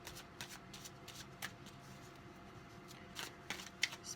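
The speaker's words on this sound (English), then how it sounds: "So I'm going to go ahead and pull you some tarot cards." Tarot cards being shuffled by hand, a soft continuous riffling with repeated brief flicks and taps, close and quiet, with no talking.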